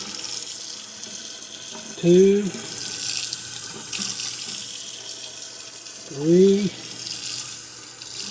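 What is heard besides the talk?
water running from a tap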